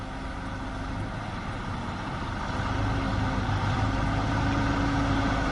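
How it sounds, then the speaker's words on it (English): A crawler tractor's diesel engine rumbles steadily as the machine is put into motion, growing slightly louder and heavier partway through, with no voices. "For the final warm-up check, you need to put the tractor in motion."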